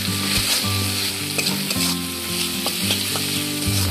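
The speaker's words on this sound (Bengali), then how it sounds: "মশলাটা আমি ভালোভাবে কষিয়ে নিয়েছি" Spice masala with turmeric, cumin and salt sizzles and fries in a pan for an egg and masoor dal curry, with repeated scraping stirs of a spatula cutting through the steady hiss, close and loud, no talking.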